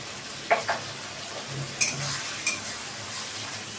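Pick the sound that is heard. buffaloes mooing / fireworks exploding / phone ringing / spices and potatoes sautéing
spices and potatoes sautéing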